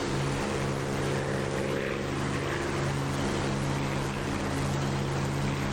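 A Supermarine Spitfire's propeller engine in the DCS World flight simulator drones steadily and loudly throughout, a constant rumbling roar with a low harmonic hum and no pauses.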